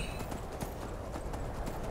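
Steady clip-clop of horse hooves on hard ground in the video game Skyrim, continuous and fairly close, with faint ambient background and no talking.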